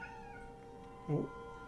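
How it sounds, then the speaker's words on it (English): Cat meowing in a detective video game, a single short clear meow rising briefly over a quiet hum, close and alone without speech. "I got a cat coming in."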